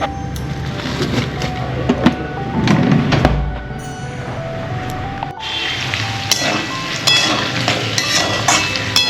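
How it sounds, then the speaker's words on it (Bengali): Potatoes fry in a pan with a nigella seed tempering for a poppy-seed dish, a soft sizzle broken by scraping stirs and the clink of a utensil against cookware, close and fairly loud. "কালো জিরে ফোড়ন দিয়ে আলু ভাজা হচ্ছে পোস্তর জন্য।"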